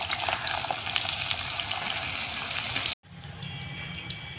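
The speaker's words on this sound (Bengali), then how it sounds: "চলো অল্প অল্প করে পেঁয়াজগুলো আমি ভেজে নেব।" Sliced onions fry in hot oil for chicken biryani, browning into crisp fried onions, with a loud, continuous close sizzle and light crackle that drops abruptly and resumes as a slightly quieter, steady hiss.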